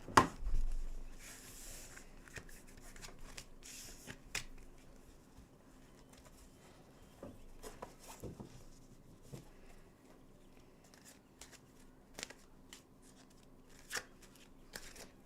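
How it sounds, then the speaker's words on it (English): Tarot cards shuffled by hand, heard as sparse, soft papery clicks and slaps spread through a quiet room with no talking. "And just shuffle my cards again."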